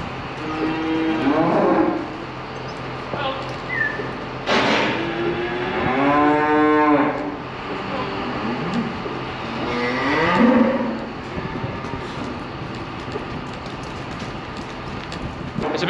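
Several cows moo loudly nearby, long drawn-out lowing calls spread across the clip over a steady patter like rain in the background.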